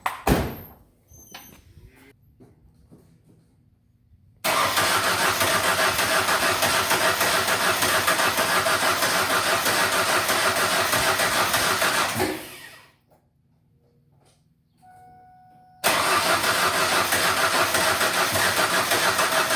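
A 1999 Mazda B2500 pickup, started after sitting for half a year, cranks briefly and then catches, running loudly and steadily. It cuts out, stays quiet for a few seconds, then restarts and roars again at close range.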